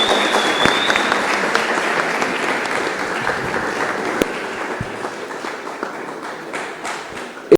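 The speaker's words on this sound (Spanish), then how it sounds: "También le agradecemos con un aplauso." A room full of people at a panel discussion applauds warmly, a dense sustained clapping that gradually fades toward the end.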